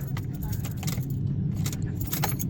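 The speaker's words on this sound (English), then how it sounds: "Just to show you, put our key in here." Car key being handled and pushed into the ignition of a car with a dead battery, a short spell of jangling key-ring clinks over a low hum, close and fairly clear.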